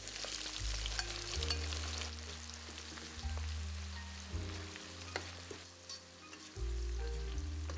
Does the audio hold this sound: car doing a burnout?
no